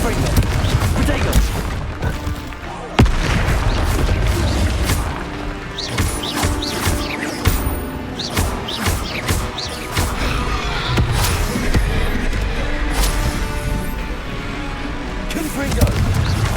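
Repeated Confringo blasting spells explode in a Hogwarts Legacy duel: a dense run of sharp bangs, crashes and booms, some very loud, mixed with shouted spell voices and other combat noise.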